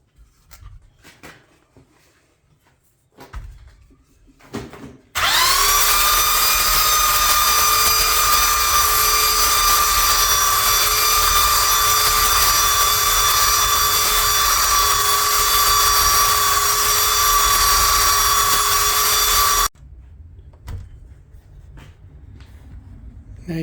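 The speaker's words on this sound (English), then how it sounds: "we'll get the belt sander and hit it flat" A belt sander whines loud and steady as it strips powder coating from a homemade knife held flat on a magnet, starting abruptly, running about fifteen seconds at constant pitch, then cutting off.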